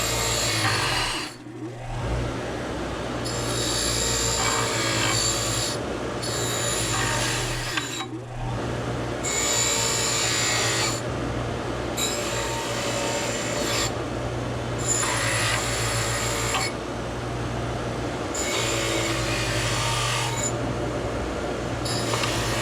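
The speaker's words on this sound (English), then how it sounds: "what we'll do is give our Mr. Grinding Wheel here" A grinding wheel scours grease out of a metal part in steady abrasive bursts of rough, rasping grinding, broken by short pauses as the piece is repositioned, close and continuous throughout.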